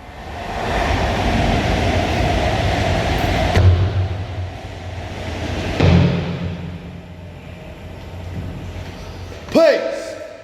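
Train pulling into Leighton Buzzard station on platform 1, a steady rumble building under a voice talking near the microphone, with a loud sharp squeal and clank toward the end.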